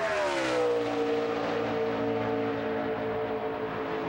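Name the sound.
NASCAR race car idling down the back straight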